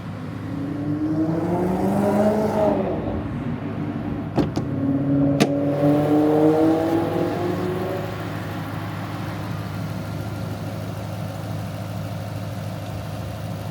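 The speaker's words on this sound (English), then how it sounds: "So the Boss 302s have a side exit exhaust that's not always active." A 2012 Ford Mustang Boss 302 Laguna Seca with a stock engine and side-exit exhaust idles, then revs once in a smooth rising and falling sweep, settling back to a low steady burble, close and alone.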